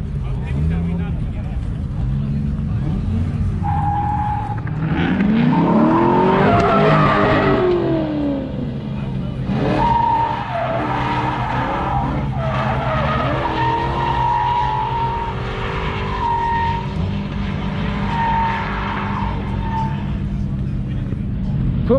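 A Corvette drifts at Memphis International Raceway, its tires squealing and skidding in long, wavering screeches over a loud engine roar, with people talking throughout.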